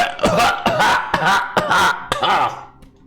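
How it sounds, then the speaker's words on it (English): A string of several harsh, rough coughs in quick succession, close and loud, trailing off into a softer throaty sound at the end. "as the smoke clears, you hear some coughing."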